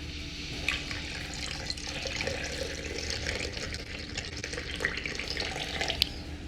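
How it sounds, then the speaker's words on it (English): Apple cider vinegar poured into ketchup for a chuck roast burnt ends barbecue sauce, a steady close liquid stream with faint splashes running throughout, no voices. "To the ketchup, we're going to add our apple cider vinegar."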